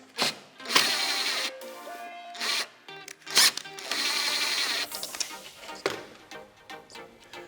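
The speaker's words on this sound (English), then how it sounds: "Now we're using an impact driver on this installation." Several bursts of a power tool, consistent with an impact driver running nylock nuts with washers onto bolts during a Minn Kota Fortrex trolling motor install, heard close and fairly loud with short pauses between runs.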